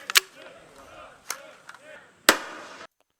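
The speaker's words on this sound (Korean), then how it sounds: "유탄 발사기 소리가 이게 보면은 딱 들어보면 이렇게 나오거든요" A 40mm grenade launcher fires in sharp, distant bangs: three main reports spaced about a second apart with smaller pops between, heard from a recording at moderate to faint level before cutting off.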